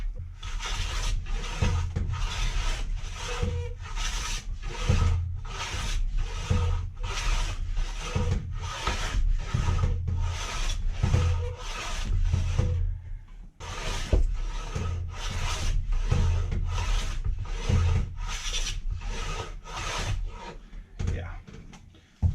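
Rhythmic scraping strokes removing varnish from wood, about two per second, steady and close, pausing briefly midway before resuming.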